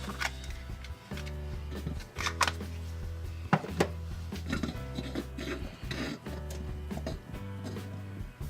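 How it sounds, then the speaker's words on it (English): Cheese grated for miniature pizzas in a vintage toy kitchen: repeated rhythmic rasping strokes against a grater, close and fairly loud, with brief pauses between bursts. "let me grate some cheese"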